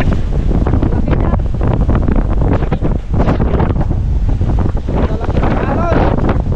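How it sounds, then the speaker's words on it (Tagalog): Strong wind roars across the microphone on a boat at sea during a typhoon, with big waves crashing and surging throughout, loud and continuous, while people talk over it. "Lalaki ng alon."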